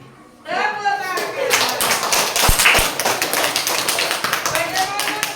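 Schoolchildren clap their hands together in an elementary school classroom, a dense burst of many palms that starts sharply and keeps going steadily, with faint voices mixed in.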